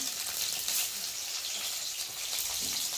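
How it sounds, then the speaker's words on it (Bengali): Chopped onion and garlic fry in hot oil in a pan, giving a steady, close, bright sizzle that holds for a few seconds with no voices. "এদিকে পেঁয়াজ ভাজা হবে আর আমি একটু রসুনটাকেও তেলের মধ্যে দিয়ে দেবো"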